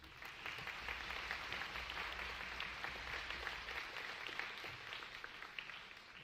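Audience at an IB diploma hood ceremony applauding the candidates, a soft, fairly distant and even patter of clapping sustained throughout without talk.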